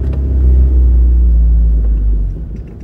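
A car engine lapping a racetrack gives a loud, close, continuous rumble that holds steady and eases slightly toward the end, with no talk over it.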